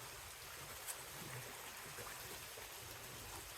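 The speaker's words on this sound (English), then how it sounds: "I've been walking along this creek here. This is called Benner Run." Benner Run, a mountain creek along a forest trail, flows steadily beneath a footbridge with a continuous, fairly faint broadband rush and light trickle, no voices present.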